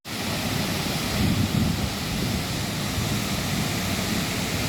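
Wachirathan Waterfall in Chiang Mai, Thailand roars as a steady, loud broadband wash of falling water, close and constant with no breaks, swelling slightly partway through.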